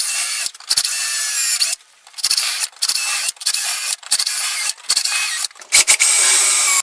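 A power drill with a thick bit bores guide holes into a tropical wood tabletop, whining loudly in about eight separate bursts broken by brief pauses, close up and alone.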